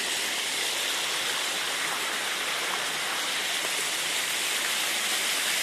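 Cachoeira de Muriqui waterfall above the Véu da Noiva falls, where water pours over an old small dam, producing a dense, constant hiss of falling water close by, steady and unbroken.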